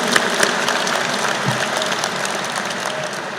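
An audience at a military change of command ceremony breaks into applause, a close, continuous patter of many hands clapping with a few sharper claps near the start.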